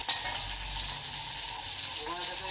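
Pork sizzles steadily in a hot pan as it is sautéed for pakbet, a Filipino vegetable dish, with a constant close hiss of frying that holds through the whole stretch.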